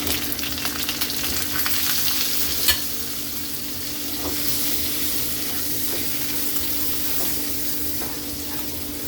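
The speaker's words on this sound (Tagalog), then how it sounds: "Pag medyo golden brown na, ilagay na natin yung butter." Butter sizzling with browned garlic in a pan while cooking butter shrimp, a steady close frying hiss with a few light clinks and stirring touches.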